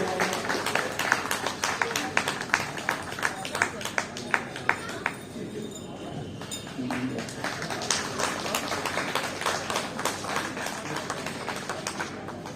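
Crowd applause for the judge of a children's play, a long stretch of scattered hand claps from many people, steady and moderately loud, briefly thinning midway before picking up again.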